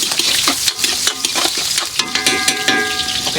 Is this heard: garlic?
yes